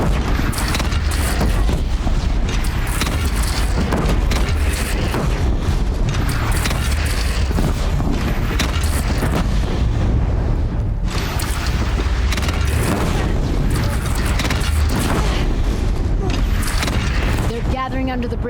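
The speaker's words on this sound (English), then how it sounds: "They only have one cannon!" Cannon fire in the Horizon Zero Dawn video game against a bandit clan: loud, continuous battle noise with heavy booms and gunfire-like blasts, voices calling out over it.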